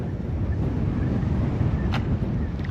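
Steady wind buffets the microphone outdoors beside the water, with a constant broad rumble and no pause for nearly three seconds, plus a faint brief clatter near the middle.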